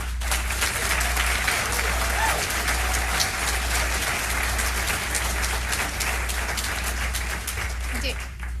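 An audience applauding at a school board meeting, dense and steady clapping from many hands that goes on for several seconds, with talk underneath.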